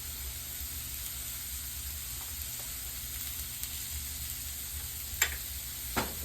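Vegetables with orange peel sauté in a pan, giving a steady, close hiss of sizzling that runs throughout, with a couple of faint clicks near the end and no voices.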